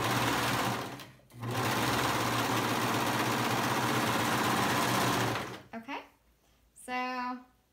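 Sewing machine stitching a band onto an open-back pullover, a loud, close, steady motor hum that pauses briefly near the start, runs continuously for several seconds, then stops, followed by a voice.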